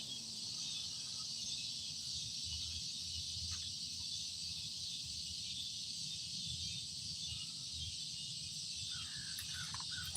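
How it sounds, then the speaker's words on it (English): Cicadas in an evening park drone in a continuous high-pitched buzz that holds steady throughout, with faint distant sounds underneath and no talking. "You can hear the cicadas."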